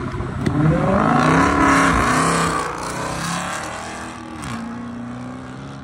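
A straight-piped Hellcat Chrysler 300 revs hard at close range. The exhaust climbs to a loud, raspy roar, eases back, then blips again in a shorter burst before dropping to a rumbling idle.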